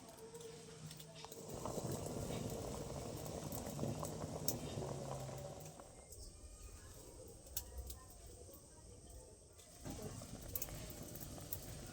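Milk boiling in a pot with rasmalai balls, a soft continuous bubbling and simmering at close range, with someone talking over it.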